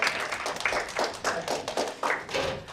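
An audience at a student council candidates' debate gives scattered, light applause at moderate distance, with irregular claps for a few seconds.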